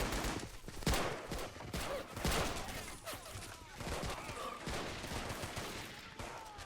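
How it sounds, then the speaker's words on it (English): Machine gun fire and scattered shots from the WWII battle game Men of War: Assault Squad, a Marines and Army beach assault on Guam 1944, a dense continuous fusillade of battle noise under a voice. "We got a machine gun position up there as well, firing at the attacking soldiers across the some sort of field back there"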